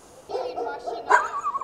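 Stray dogs around a parked car in Bucharest let out short, fairly close barks and yips in quick succession, with a brief louder bark near the end.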